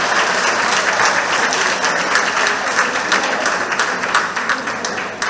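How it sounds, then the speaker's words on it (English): A room of members at a monthly community centre meeting applauds, with steady, dense clapping that holds for several seconds and slowly thins near the end. "Could we give them a round of applause?"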